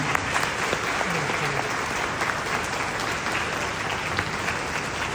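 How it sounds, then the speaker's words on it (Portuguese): A congregation at a Catholic Mass applauds its priests with steady, dense clapping that fills the whole stretch, a broad continuous wash of many hands in a large church, with faint voices mixed in beneath. "eu quero pedir também uma salva de palmas para os outros padres que aqui estão."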